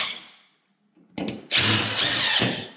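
A power drill drives screws to fix a speaker into a wall, a quiet scrape first, then a loud continuous whine from about halfway through that holds steady to the end, with no talk.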